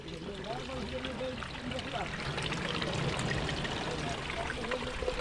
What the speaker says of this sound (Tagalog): Water, running water.